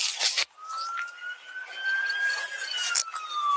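An emergency siren, an ambulance arriving at the scene where a police car ran a man over, holds a steady wailing tone that slowly rises and then falls, loud and close after a brief burst of noise, with no talking.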